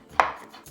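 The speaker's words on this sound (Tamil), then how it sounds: "நாம் எடுத்த சுரைக்காய் எல்லாத்தையுமே நறுக்கி எடுத்துட்டோங்க" A single sharp knife chop through bottle gourd on a cutting board, one crisp impact followed by a short fading scrape and a faint second tap.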